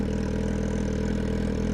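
A Brutale motorcycle engine fitted with a new titanium exhaust and custom link pipe idles steadily, a close, constant low throb with a fine rapid pulsing and no change in revs.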